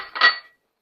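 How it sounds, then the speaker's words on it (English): A single brief clatter as the top goes onto a steamer holding seasoned chicken, a short close metallic-plastic knock lasting under half a second, then silence. "And then we're going to put the top on the steamer."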